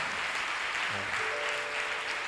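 Church congregation at a prophetic service clapping and cheering in praise, a dense, steady wash of applause filling the room with a few voices rising through it.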